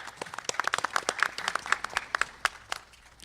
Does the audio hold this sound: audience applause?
yes